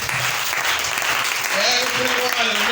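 A church congregation applauding during a service, a sustained dense wash of clapping from many hands that swells toward the end, with voices calling out beneath it.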